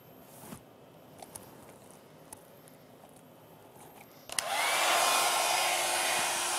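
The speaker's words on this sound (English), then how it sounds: "because it spins either clockwise and anti-clockwise, you can actually flick your hair out at the bottom if you wanted" A Babyliss Big Hair rotating hot air brush switches on partway through, its loud steady blowing whir holding close and continuous after some quiet handling noises.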